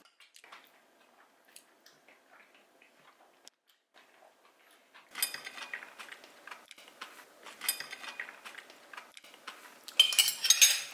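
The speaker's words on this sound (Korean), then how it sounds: "설거지를 하셨네." Dishes and cutlery clink and clatter during washing up in a home kitchen, faint sparse taps at first, then busier, louder rattling and scraping of utensils against plates toward the end, no talking.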